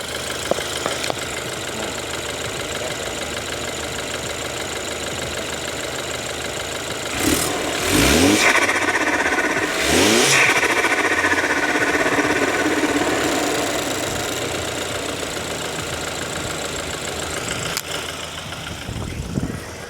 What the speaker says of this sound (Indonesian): Dan udah pakai blow off GFB DV Plus. Jadi suaranya kayak gini guys.